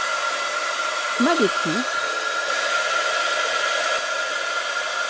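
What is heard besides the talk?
hot air gun heating thermoformable foam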